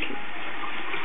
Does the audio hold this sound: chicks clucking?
no